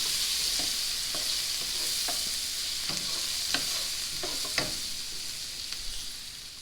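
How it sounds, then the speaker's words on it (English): Onions sautéing in a mix of butter and oil, giving a steady close sizzle with occasional scraping strokes of a utensil stirring through the pan, and no voices. "Now we're going to put the onions in for 5 minutes and saute these till they're"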